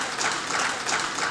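Brief, dense audience applause rings out at the final of a comedy show, a steady wash of clapping with no pause.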